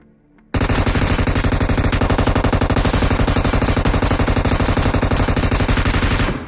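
Loud, sustained automatic gunfire in PUBG Mobile bursts in after a brief quiet lead-in and rattles on continuously for several seconds as a dense, rapid fusillade.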